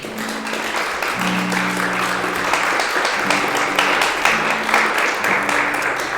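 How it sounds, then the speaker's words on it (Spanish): Applause from a church congregation during a leadership meeting, a steady broadband patter of many hands clapping continuously throughout, with music tones sustained underneath. "Podemos dar un aplauso al Señor."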